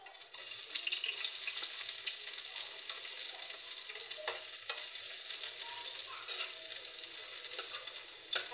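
Onions frying in a pan, a steady close crackling sizzle with light stirring scrapes throughout, with no voices.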